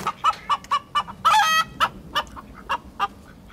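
Chickens cluck in a coop in a steady run of sharp, evenly spaced calls, loud and close, with a brief louder burst of overlapping squawks partway through.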